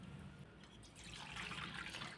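Dirty rinse water poured off washed poha (flattened rice) in a home kitchen, a steady, fairly quiet splashing trickle that swells slightly toward the end, with no voices.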